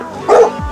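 A dog gives a single short bark followed by a falling whimper, close and alone, inside a stable box.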